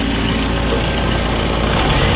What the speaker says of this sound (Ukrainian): система охолодження повністю прокачана, двигун повністю прогрітий